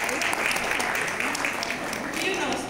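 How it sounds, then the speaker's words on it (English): Audience applause in a lecture hall at a startup talk, a steady patter of clapping lasting throughout, with voices talking over it. "Applause for you."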